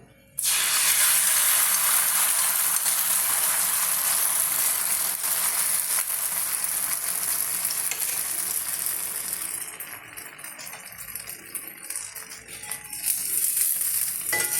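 Carrots go into hot oil for a kids' lunch box, setting off a loud, bright sizzle that hisses steadily, eases off partway through, then swells again near the end.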